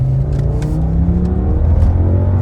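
An Audi RS6 with a V10 engine revs hard nearby, a loud, deep rising growl that surges and holds across the clip, with no talking over it.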